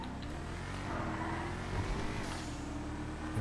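A car engine with a turbo roars and revs in GTA V, a steady, fairly quiet growl with traffic-like rumble and no speech over it.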